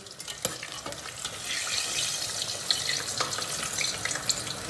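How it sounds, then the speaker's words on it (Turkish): Eggplant pieces fry in hot oil in a Turkish home kitchen, giving a steady crackling sizzle with occasional sharper pops and utensil clicks, close and fairly soft. "Patlıcanı yağa attıktan sonra altını yükseltiyoruz."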